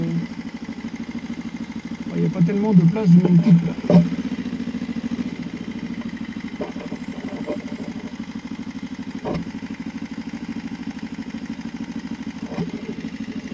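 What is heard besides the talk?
motorcycle engine idling while parking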